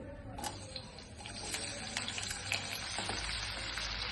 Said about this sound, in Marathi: आता कांदा फ्राय करून घेऊ